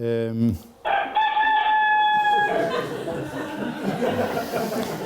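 A rooster crows loudly and close, a long sustained cry, followed by clucking and background chatter.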